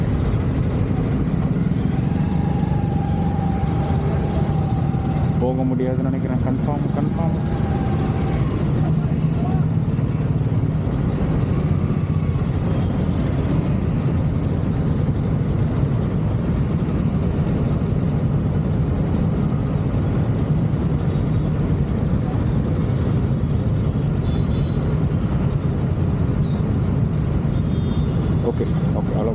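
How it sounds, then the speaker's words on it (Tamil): Heavy road traffic held near Siruseri IT park, with a continuous low drone of idling engines throughout and people talking over it. "Heavy loaded traffic."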